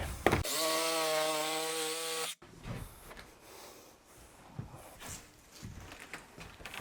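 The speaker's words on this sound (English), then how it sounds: "Now we can go ahead and cut around our flange." Power saw cutting plywood around a shower drain flange, a loud two-second whining cut followed by quieter scraping and handling noises, with no voices.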